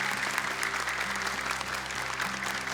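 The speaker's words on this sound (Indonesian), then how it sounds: "Boleh tepuk tangan untuk Dewan Juri kita" Audience applause for the jury at a televised Indonesian Quran memorization competition, Hafiz Indonesia 2024, a steady, dense wash of many hands clapping that holds evenly throughout, with music or tones faintly underneath.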